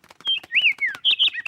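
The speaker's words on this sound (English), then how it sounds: "Ah, yes, that is a sparrow." A sparrow chirps in a rapid run of short, bright tweets and a few longer whistled notes, close and clear, with no talking.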